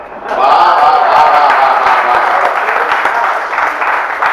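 Applause from a large audience at a Hindi poetry recital, a dense, steady wash of clapping that swells quickly and holds loud before easing slightly.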